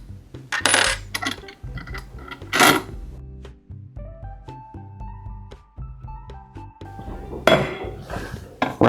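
Metal bolts and nuts being taken off a rotary spreader, with bright clinks and rattles of loose hardware, a few louder metallic jangles, and a faint tonal ring partway through.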